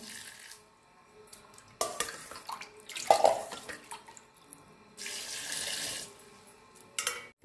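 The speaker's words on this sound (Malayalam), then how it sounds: "ഇതിലേക്ക് അതുപോലെ തന്നെ 3 കപ്പ് വെള്ളം കൂടി ഒഴിക്കുന്നുണ്ട്." Three cups of water poured into milk in a pot while making an ashwagandha preparation, splashing in several separate bursts of steady pouring with quieter pauses and light clinks between them.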